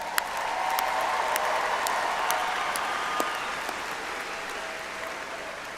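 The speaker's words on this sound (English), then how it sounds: "There'll be a lot of applauding for the next couple hours" A large audience applauds at the Texas State University spring 2024 graduation ceremony, with steady, sustained clapping and scattered sharper claps and a few cheers standing out, broad and roomy throughout.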